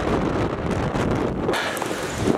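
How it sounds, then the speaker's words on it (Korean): Strong wind roars and buffets the microphone during a DJI Phantom 4 drone flight, a constant loud rushing with gusty swells throughout. "바람 엄청나게 불어"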